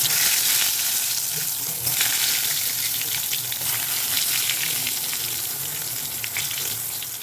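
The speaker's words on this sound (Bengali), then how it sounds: "বেগুন ভাজ ভাজবো বলে তেলে চাপিয়ে দিলাম" Eggplant slices sizzling in hot oil in a home kitchen on a winter morning, a loud, steady crackling hiss filling the whole stretch with small pops and stirring noises.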